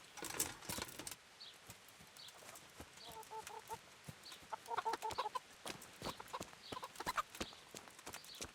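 Chickens clucking near a farmyard in the medieval video game Kingdom Come: Deliverance, scattered soft clucks and short calls repeating over quiet ambient noise, with no talking.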